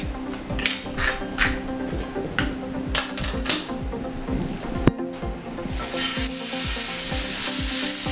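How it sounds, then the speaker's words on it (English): Pork searing in a very hot pan, a loud sizzle broken by repeated scraping and tapping of a utensil, then a steadier hiss swelling at the end. "what I'm gonna do is sear that in this really super hot pan"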